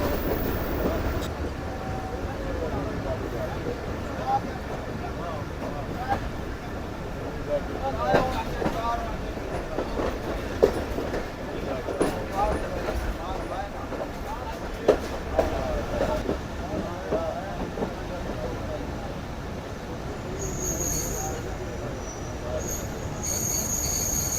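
The Karakoram Express pulls into Lani Junction railway station with sustained wheel squeal and rumbling rail noise. Some clickety-clack and faint voices sit underneath, with brief sharper squeals late in the approach.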